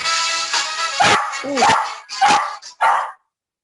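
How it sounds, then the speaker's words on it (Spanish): A dog barking repeatedly nearby, loud sharp barks in irregular bursts with a few yelping rises, some overlapping background noise, stopping abruptly before the end. "El perro no deja de ladrar."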